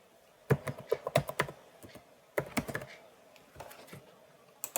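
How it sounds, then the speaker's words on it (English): Keystrokes on a computer keyboard as a project name is typed, arriving in two quick bursts of sharp, close clicks with short pauses between them. "click on new project and name it as RC amplifier as you want."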